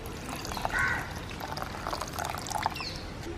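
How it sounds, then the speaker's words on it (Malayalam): Second coconut milk pours into a prawn curry in a pot, a soft liquid splash and trickle that swells briefly then settles into a faint, steady wash beneath quiet room noise. "ഈ 2-ാം പാല് ഇതിലേക്ക് ഒഴിക്കുക."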